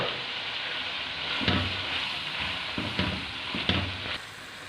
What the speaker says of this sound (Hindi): इसको मैं 3-4 मिनट तक ऐसे ही भून लूँगी